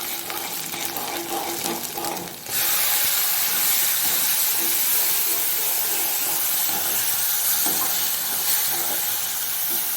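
Green onions drop into hot oil with browned garlic and green chillies for a spicy millet flatbread, and a moderate sizzle suddenly surges into a loud, sustained hissing fry.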